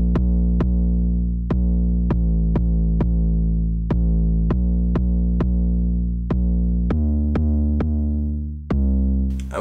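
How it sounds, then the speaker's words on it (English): A simple 808 bass line in a Mo Stack-style beat, with deep sustained bass notes stepping between pitches under a steady, evenly spaced percussive pattern, loud and up close with no voices. "I just played this very, very simple 808 bass line that went really well with the rest of the beat"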